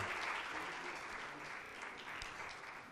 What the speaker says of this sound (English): come on, give us a round of applause